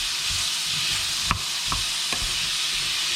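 Onions being stirred into a sizzling pot of Soljanka, a steady frying hiss with a few soft spoon scrapes and knocks against the pot.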